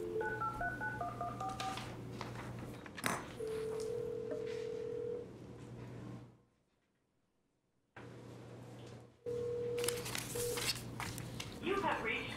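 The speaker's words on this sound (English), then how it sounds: "can call in Commissioner McKenzie?" A phone keypad sends a quick series of beeping dial tones while calling into a municipal fire and police commission committee meeting, followed by steady line tones, a gap of silence and more tones, with faint room sounds.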